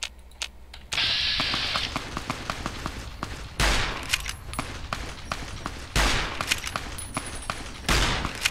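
Gunfire in the video game Fallout New Vegas: a series of sharp, loud shots and short bursts ring out at irregular intervals over a low ambient background, with no talking.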